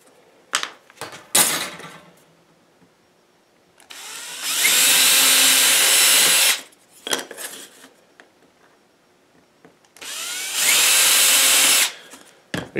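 A power drill whirs loudly in two bursts of about two seconds each, boring through wood for a bee swarm box, separated by clicks and handling noises from tools nearby.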